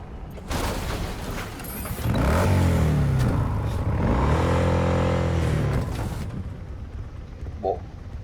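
Motorbike engine in the Cyberpunk 2077 video game revving loudly for several seconds, rising and falling in pitch as the bike is stolen, with game noise around it.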